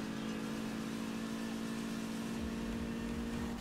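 A Lamborghini engine in a racing video game holds a steady, loud, buzzing drone with a constant tonal hum, rising slightly in the low end near the end and running without pause.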